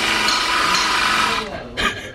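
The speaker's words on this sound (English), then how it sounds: "Currently using the bell housing as a table to drill out the ground cable." A power drill bores out a car's ground cable while the work rests on a bell housing, a steady buzzing whir running loud and close for over a second before stopping, then a brief second burst.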